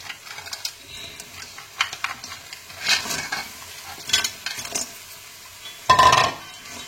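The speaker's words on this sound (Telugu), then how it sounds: "ఇప్పుడు దీనిలో ఈ క్రాబ్స్ ముక్కలు వేసుకొని బాగా వేయించాలన్నమాట" Crab pieces stirred and fried in a masala in a pan, with scraping and clattering bursts of stirring over a light sizzle and a louder clatter near the end.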